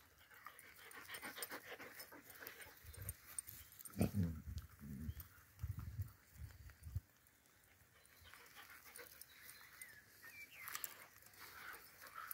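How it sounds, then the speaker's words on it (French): Dogs pant and snuffle nearby in short uneven bursts, quiet against a soft background of rain-like hiss. "Les petits toutous."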